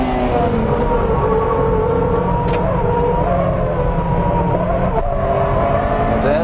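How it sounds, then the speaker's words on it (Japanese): A 2001 Honda Integra Type R engine screams at high rpm, a loud, sustained nasal wail with rising and falling harmonics as the revs shift, close and continuous throughout. "エンジンも高回転域でだいぶ圧縮が維持されてる感じ"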